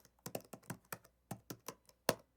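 Typing on a computer keyboard into a search bar, about a dozen quiet, close clicking keystrokes in an uneven rhythm with short pauses between them.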